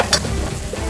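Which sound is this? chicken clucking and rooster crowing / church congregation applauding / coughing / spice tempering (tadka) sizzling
spice tempering (tadka) sizzling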